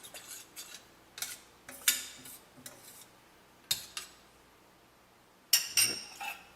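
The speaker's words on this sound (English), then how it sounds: "And we're going to mix this in." A metal spoon stirs sugar into tomato pizza sauce, giving scattered clinks and scrapes against the pot with short pauses between strokes, close and fairly quiet.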